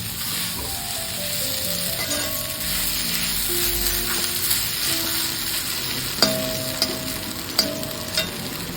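Potato podimas with coconut sautés in a pan with a loud, steady sizzle throughout, joined by a few stirring scrapes and sharp clinks of the spoon on the pan near the end.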